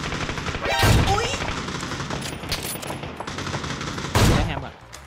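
Gunfire in the video game PUBG, two loud sharp bursts about three seconds apart over a steady bed of game noise and faint background sounds, with players talking at times.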